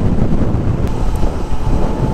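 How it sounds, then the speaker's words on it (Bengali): Steady wind buffeting the microphone while riding along a road in Musapur, a continuous loud broadband rush with no pauses or voices. "আজকে ভালো বাতাস আছে এই জায়গায়, যার ফলে রাইড করতে খুবই আরাম লাগতেছে"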